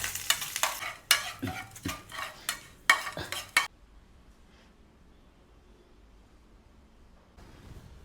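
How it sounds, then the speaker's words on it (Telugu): Curry leaves and finely chopped green chillies for vada batter fry and get stirred in a pan, with loud bursts of crackling and scraping for about three and a half seconds before fading to quiet room tone. "కరివేపాకు అండ్ మిర్చి ఉన్నాయి కదా సన్న సన్నగా కట్ చేసుకునే మిర్చి ఇవన్నీ వేసి ఇలా వేయించుకోవాలి"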